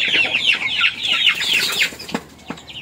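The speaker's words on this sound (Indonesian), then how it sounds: "ini adalah ketika si ayam yang kita treatment sebelumnya sudah mau makan sendiri" A chicken clucks repeatedly up close in a rapid, chattering run, followed by a couple of short, sharper clucks.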